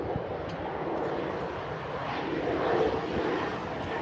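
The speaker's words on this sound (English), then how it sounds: "we have another plane coming. Here comes plane number 10." An airplane flies overhead near a railway line in Stuart, a broad steady engine roar that swells slightly and then holds, loud and continuous with no talk.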